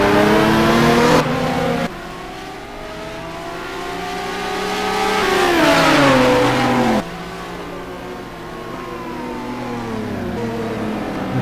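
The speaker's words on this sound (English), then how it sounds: "You can hear the motor shutting on and off." A race car engine at Spa in a sim racing GT endurance race whines through rising and falling revs, with sudden level drops where the power cuts out and back in, loud and close throughout.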